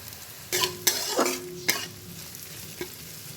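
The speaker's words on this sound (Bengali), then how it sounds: "সবজিগুলো ভাজা হয়ে গেলে সামান্য ফ্রাই করা চিকেন, চিংড়ি মাছ আর ডিমটাকে দিয়ে দেব" Vegetables sizzling in a hot pan for mixed fried rice, with a spatula scraping and stirring in a few sharp strokes over a steady close frying hiss.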